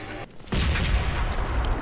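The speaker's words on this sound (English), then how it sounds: "Well, that wasn't that big of an explosion." Planted explosives detonating in the video game Mass Effect 2: after a brief hush, a loud, sudden boom erupts and rolls on as a sustained rumbling blast.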